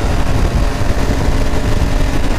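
A loud, close Honda Hornet motorcycle engine running with a rough, steady rumble, no voices.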